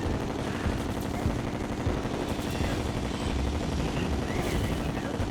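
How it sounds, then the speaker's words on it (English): A rapid barrage of video game explosions in Terraria, dense overlapping blasts and pops rattling continuously like heavy gunfire for several seconds without pause. "that was a lot of explosions all at once"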